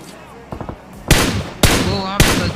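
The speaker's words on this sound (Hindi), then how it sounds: "गोली चलने की आवाज आती है" Loud, sharp gunshots from a BGMI (PUBG Mobile) battle: a few faint quick pops early, then three heavy close shots spaced about half a second apart, each followed by a ringing tail.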